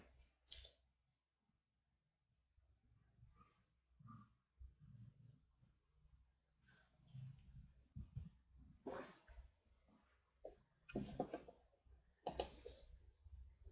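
A computer mouse clicks during a MySQL installation: a few sharp, isolated clicks spaced several seconds apart, with faint soft desk noises between them in an otherwise quiet room.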